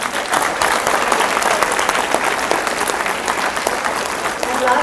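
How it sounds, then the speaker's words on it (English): Audience applause at a student event, a steady, dense wash of clapping from a large crowd that holds for several seconds, with speech faintly mixed in. "a big round of applause for us."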